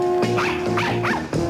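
A dog barks three times in quick succession, loud and close, against a steady background hum from an older film soundtrack.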